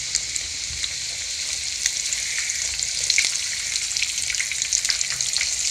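Breaded chicken breast fillets fry in oil in a pan over medium heat, giving a steady bright sizzle with scattered crackles and pops, close and continuous, with no voices.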